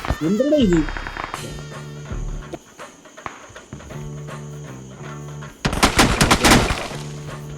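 Rapid bursts of video game gunfire rattle out amid game music and effects, with a loud volley of shots near the end.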